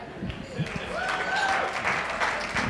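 Scattered, fairly quiet clapping from an audience at a charity foundation gala night, mixed with background voices and murmuring.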